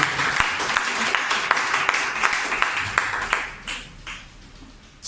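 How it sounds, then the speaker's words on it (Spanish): A church congregation applauds steadily and loudly during a morning service, sustained clapping with a few sharper claps, tapering off slightly near the end. "Den ese aplauso al nombre que es sobre todo nombre en esta mañana."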